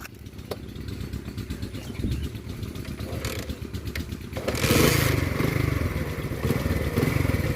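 A motorcycle engine idles with a steady chugging rumble while a beginner learns to ride, then revs up louder partway through, close and continuous.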